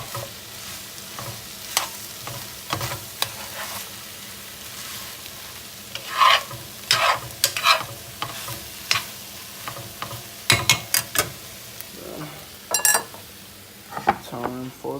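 Vegan soy chorizo with sriracha stirred in a sizzling pan, a soft continuous sizzle broken by repeated scraping and clinking of a utensil against the pan, close-up, with no talking.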